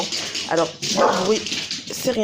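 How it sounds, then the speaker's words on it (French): A pet dog barks and yips excitedly while chasing a fly indoors, with short sharp bursts heard under and between a woman's French speech. "c'est mon chien qui court après une mouche"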